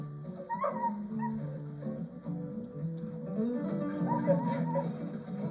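A dog under attention training whimpers and gives short high yips in scattered bursts, close by, over a low background rumble.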